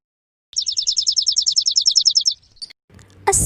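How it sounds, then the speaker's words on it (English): A sparrow gives a rapid, steady run of bright chirps for about two seconds, clear and fairly close, with no other sound over it until a brief muffled rustle at the end. "A sparrow chirps."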